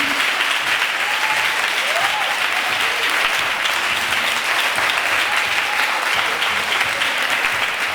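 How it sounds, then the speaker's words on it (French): A church congregation at a Sunday worship service bursts into sustained, dense applause that stays loud and steady throughout, a full room clapping together. "Acclamez Jésus"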